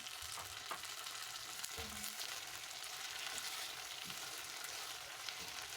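Omena fish frying in a pan with ripe red tomatoes just added, giving a soft continuous sizzle with a few light stirring scrapes, close but fairly quiet, no talk.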